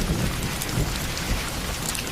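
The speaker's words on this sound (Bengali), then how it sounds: "কথাটা বলতে কিনা বলতেই বৃষ্টি শুরু হয়ে গেল।" A cartoon rain-and-thunder sound effect: dense, steady rainfall pours evenly throughout, with a low rolling thunder rumble underneath and no voices.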